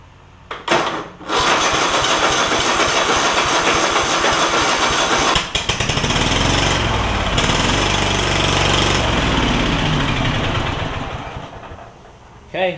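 Kohler Courage V-twin engine on a Craftsman DYS4500 mower, fitted with a swapped ignition coil, cranks and starts, then runs loudly and steadily close by, with brief rough changes as one spark plug lead is pulled to check cylinder firing.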